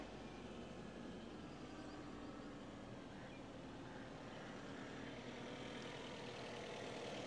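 A Suzuki Swift DLX car engine idles steadily and quietly, a continuous low hum with no other sounds.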